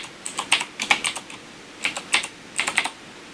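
Keys on a computer keyboard are tapped in short, uneven bursts of quick clicks separated by brief pauses, close and fairly quiet with no voice.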